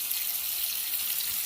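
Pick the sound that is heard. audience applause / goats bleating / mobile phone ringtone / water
water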